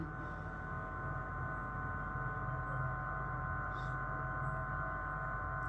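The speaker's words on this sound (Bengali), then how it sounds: "বিটার মেশিন দিয়ে ভালো করে ক্রিমটা তৈরি করে নিচ্ছি আমি" An electric beater machine whips cream for a chocolate ganache cake, giving a steady, unbroken motor drone throughout.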